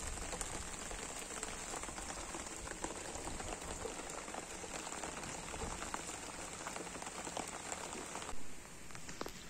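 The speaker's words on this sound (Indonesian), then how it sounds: "Hujan terus guys, hujan terus." Steady rain falls outdoors during a riverside freshwater prawn fishing trip, a dense continuous hiss of drops on surfaces at moderate level, with no voices.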